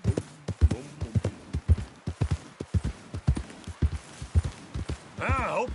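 A horse's hooves clip-clop at a brisk, steady walking rhythm in the Red Dead Redemption 2 video game, close and clear, with a voice speaking briefly near the end.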